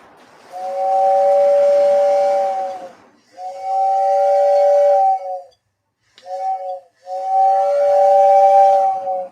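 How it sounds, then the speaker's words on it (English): A model steam locomotive's air whistle sounds four times, three long sustained blasts and one short toot in between, loud and close with a breathy edge, and no voices. "Yeah, I love that whistle. It's just a classic sound right there."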